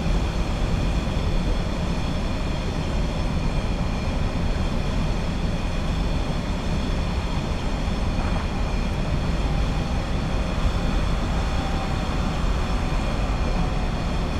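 A Class 66 diesel freight train in Train Simulator 2015 rumbles on steadily near Wishaw Station, with a constant engine drone and rail noise that stay loud and unbroken, and nobody speaks.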